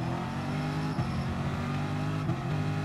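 McLaren race car engine in the racing video game Gran Turismo Sport: a steady, high-revving drone held at constant pitch for a few seconds, with slight gear-shift dips, loud and close with no talk.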